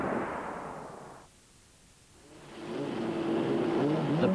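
A GT race car from the FIA GT 2000 championship rounds a tight right-hand hairpin onto the start-finish straight. Its engine roars, fades briefly, then swells back to a loud, sustained drone as it accelerates away.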